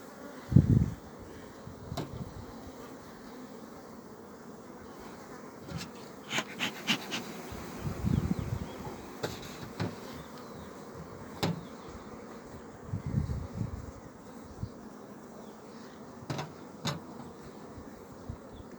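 Honeybees buzz steadily around an open beehive during a hive inspection, a continuous near drone with occasional louder passes and a few faint knocks and clicks.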